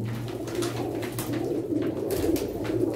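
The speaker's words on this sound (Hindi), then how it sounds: "कबूतर" Pet pigeons coo in a close, soft series of low throaty calls over a faint background hum, with a few brief rustling bursts between the calls.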